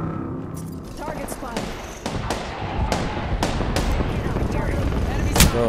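Gunfire in the video game Apex Legends comes as a series of sharp, loud shots spaced irregularly over a dense rumbling backdrop, with a heavier blast near the end, and voices talk under it.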